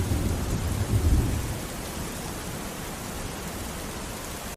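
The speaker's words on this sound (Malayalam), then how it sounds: "അത് ചെയ്ത് കഴിഞ്ഞപ്പോൾ തന്നെ നമുക്ക് ഇവിടെ മഴയും സ്റ്റാർട്ട് ചെയ്തു." Heavy rain pouring steadily over a backyard with a low rolling rumble of thunder early on, a dense continuous hiss with no voices.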